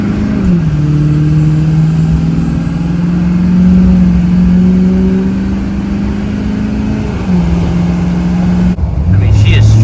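A roughly 20-year-old Duramax diesel pickup engine laboring under load while driving, a loud steady drone with a rising tone and a shift near the end, heard from inside the cab.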